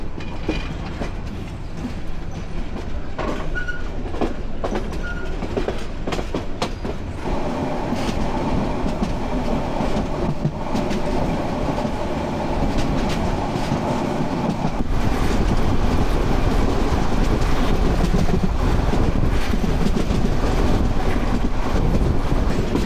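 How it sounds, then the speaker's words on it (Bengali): The Mohanagar Express, running from Chattogram to Dhaka and slowing toward Comilla station, fills the clip with a continuous loud rumble and rattle of carriages on the rails, growing heavier in the last stretch. "ট্রেন স্লো হয়ে যাচ্ছে, সামনে কুমিল্লা রেলওয়ে স্টেশন"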